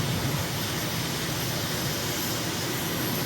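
A jet aircraft making a high-speed low pass up the runway at Incheon in Microsoft Flight Simulator, giving a steady, loud, broadband engine roar that holds throughout with no talk.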